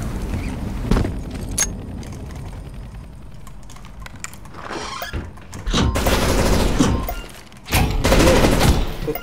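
A turret in the CS:GO Danger Zone game firing, heard as dense rapid bursts of close, loud gunfire with bursts around the middle and end, mixed with quick keyboard-like clicking and no talk.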